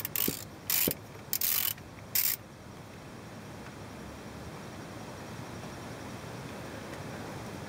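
A ratchet on an extension loosens a transfer case filler cap, four short clicking bursts in the opening two seconds, close and crisp, followed by quiet steady background hiss.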